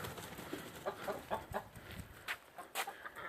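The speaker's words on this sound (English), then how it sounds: "Oh, I hear the ducks." Ducks quack and chatter in short, repeated calls inside a garage. The birds are faint and somewhat distant, with no talk over them.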